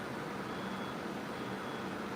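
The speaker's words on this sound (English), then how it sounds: "you hear the beeping in the background?" A reversing truck's beeper sounding at a distance, a faint steady tone under a broad wash of outdoor noise.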